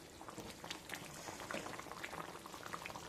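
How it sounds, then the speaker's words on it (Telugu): An elephant foot yam stew simmers on low heat in a pot, with soft, irregular bubbling and gentle popping, quiet and close, with no voices. "సిమ్లో పెట్టేసుకొని ఉడుకుతుంది కదా"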